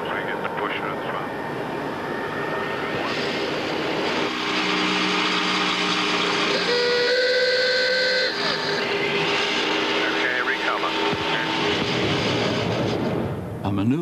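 A test-pilot training aircraft descends under a stick pusher with throttles closed, giving a loud continuous airflow roar with whining tones rising through the middle, steady and close throughout.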